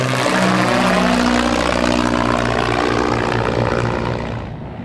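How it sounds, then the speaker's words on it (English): A de Havilland Dragonfly biplane's propeller engine drones loud and close with a steady throbbing hum, easing slightly toward the end. "The Dragonfly looks very similar to the DH-89 and is essentially a smaller version of the Dragon Rapide, seating only 4 passengers plus the pilot."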